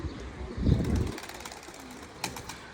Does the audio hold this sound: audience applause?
no